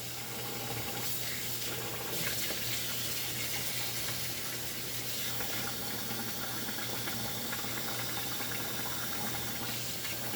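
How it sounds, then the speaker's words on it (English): Tap water runs steadily while rice is washed in a strainer, producing a constant splashing hiss at close range with no voices. "just dump it back in the strainer and wash it"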